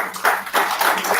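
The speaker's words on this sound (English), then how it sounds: "Ladies and gentlemen, a round of applause for the simulators" A small seminar audience gives a short burst of applause, a few uneven clusters of hand claps at close range over about a second.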